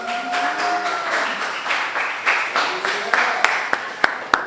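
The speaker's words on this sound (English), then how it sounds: "keep clapping, keep clapping" Rap battle event crowd applauding in a dense wash of clapping, with a few sharp, loud individual claps standing out near the end and faint voices mixed in.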